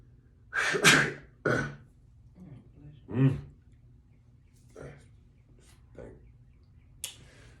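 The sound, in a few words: sneeze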